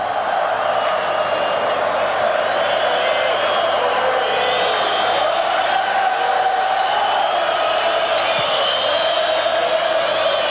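Packed stadium crowd at a 1985 World Cup qualifier between Israel and Australia in Tel Aviv, a steady dense roar with rising whoops and cheers throughout, loud and continuous.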